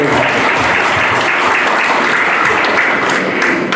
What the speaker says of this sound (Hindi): जोरदार तालियां बजाएं आपके साथ।